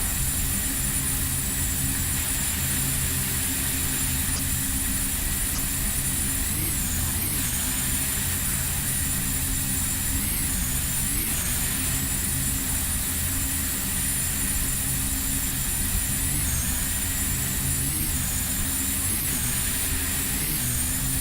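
Steady, close airliner engine drone inside a Prepar3D flight simulator game, a continuous broadband roar with a faint high whine that shifts slightly now and then, running unbroken with no talk.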